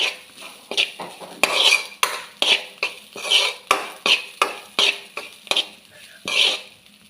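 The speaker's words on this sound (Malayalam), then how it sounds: "നമുക്ക് തേങ്ങ നന്നായിട്ട് വറുത്തെടുക്കാം." Grated coconut being dry-roasted in a pan until golden for a prawn theeyal curry, a spatula scraping and clinking against the metal in steady repeated strokes, close and fairly loud with no talking.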